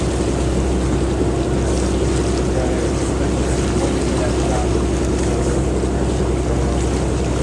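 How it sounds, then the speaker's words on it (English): The Cherry Blossom, a split stern-wheeler driven only by its stern paddle wheels, moves across the water with a steady, loud wash of churning water and engine rumble, overlaid by wind and a faint background murmur. "The Cherry Blossom is a true working split stern wheeler, which means the paddle wheels on their stern are her only means of propulsion"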